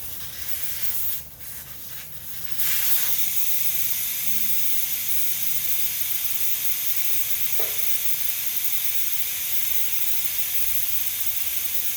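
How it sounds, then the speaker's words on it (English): Air hisses out of a 2020 Can-Am Maverick X3 X RC Turbo RR tire with the valve core removed, a loud steady close hiss that starts abruptly after a few quieter seconds and continues unbroken. "I'm just going to let the air out of the tire, just take out the valve stem"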